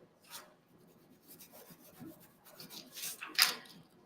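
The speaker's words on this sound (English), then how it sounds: "So this is burnishing. This is what we're doing for burnishing." Burnishing a handmade DIY flower pot, a soft, uneven rubbing and rasping of a tool over its surface, nearby and fairly quiet, swelling into louder strokes toward the end.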